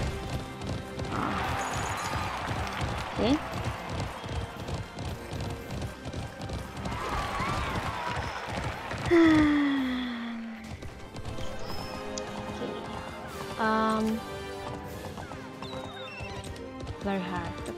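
A horse galloping in the video game Alicia Online, steady rhythmic hoofbeats running throughout with a brief whinny-like sweep midway, mixed with game music and a voice talking.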